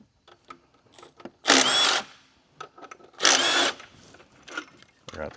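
Swivel socket on a ratchet backing out throttle body bolts on a Mustang, two loud close bursts of rapid ratchet clicking separated by quieter taps and handling noise.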